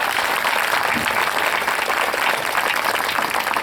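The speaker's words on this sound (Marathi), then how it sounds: "जरा एकदा गोड टाळी वाजवा." Audience applause at a kirtan, dense sustained clapping from a large crowd filling the whole clip with no voices above it.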